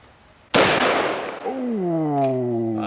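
Single shot from a Taurus Raging Judge revolver firing a .454 Casull round: one abrupt, very loud close blast with a quick decay, followed by a voice reacting.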